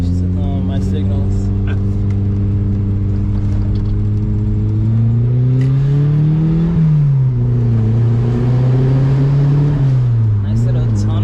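A Mazda Miata with pop-up headlights drives along with a loud, steady engine drone that rises and falls as it shifts and climbs in pitch, heard close from inside the car.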